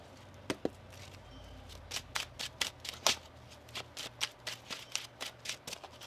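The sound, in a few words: shuffling tarot cards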